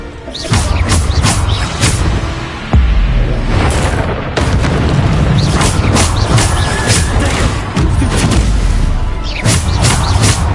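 Heavy booming spell impacts from the Hogwarts Legacy video game, including Descendo slams, land one after another in loud bursts and crashes, with short gaps between the hits.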